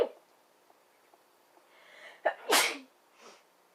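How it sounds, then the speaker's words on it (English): A quick intake of breath builds into a single sharp, forceful sneeze up close, followed by a softer exhale. "I'm going to sneeze."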